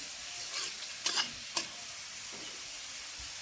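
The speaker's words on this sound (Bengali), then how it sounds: "রসুনটা কি সুন্দর ভাজা হয়ে গেছে" Garlic fries in a pan with a soft, steady sizzle, broken by two quick scraping stirs close by and a fainter tap afterward, with no voices.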